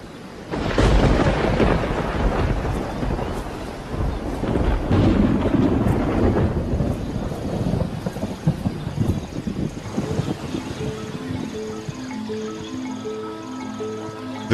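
A summer thunderstorm in Kruger, with rolling thunder rumbling loudly over steady rain and gusty wind buffeting the microphone, the rumbles swelling and fading across the whole stretch.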